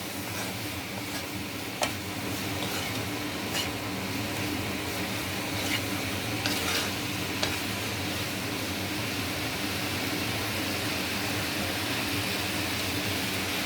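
A chilli paneer mixture seasoned with salt and black pepper is stirred in a pan, a soft continuous sizzle with a few faint scraping clicks, steady and fairly quiet with no voices.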